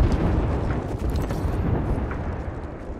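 A heavy, rumbling explosion in the Apex Legends battle royale shooter roars loud and close, with a broad roiling blast that sustains for a few seconds without fading.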